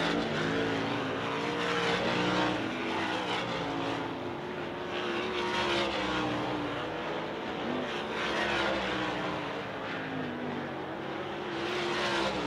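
Sprint cars run hot laps on a dirt oval at Southern Oklahoma Speedway, a steady, loud roar of several engines droning together with slight swells as the pack circles, with no voices.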